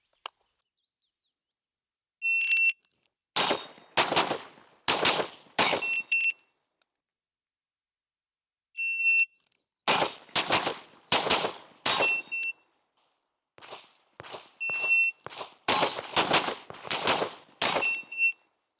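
Sharp gunshots in rapid bursts at steel targets and a popper during a transition drill, about six per string, repeated three times with pauses between, each string opened by a high electronic shot-timer beep.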